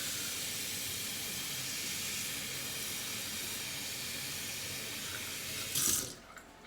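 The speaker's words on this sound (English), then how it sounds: "We fill her with water" Tap water runs steadily into a pot at a kitchen sink, a continuous close hiss and splash that swells briefly before the flow is shut off near the end.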